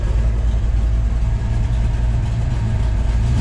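A 1971 Dodge Challenger R/T engine idles at about 1000 RPM, a loud, steady low rumble close by, running evenly throughout with no revving.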